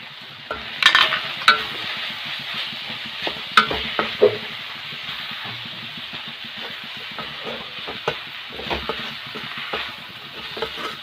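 Banana flower is stir-fried in a pan with a steady low sizzle, punctuated by clattering spatula stirs and scrapes near the start and scattered later.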